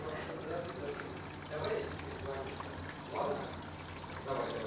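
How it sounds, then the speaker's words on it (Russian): A small waterfall in a florarium trickles and splashes steadily, quiet and close, with louder gushes every second or so. "Запуск водопада."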